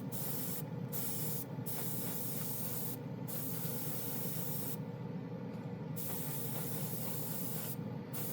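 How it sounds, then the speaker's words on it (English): A steady, continuous hiss of a spray gun spraying chrome paint at 12 PSI, close and even throughout, with a few brief dips where the spray stops. "Easy to spray. This is on 12 PSI, and it's just Sprays beautifully."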